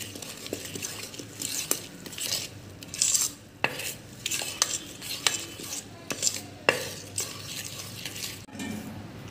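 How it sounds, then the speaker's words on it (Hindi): A spoon stirs thin batter in a bowl, clinking and scraping against the sides in an uneven, repeated rhythm with sharp taps, close and fairly loud. "इसको अच्छी तरह से मिक्स करेंगे,"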